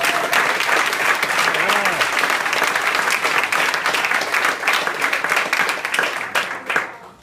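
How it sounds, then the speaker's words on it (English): A room full of club members bursts into sustained, loud applause that holds steady for several seconds, then tapers off near the end. "all of them deserve a great round of applause"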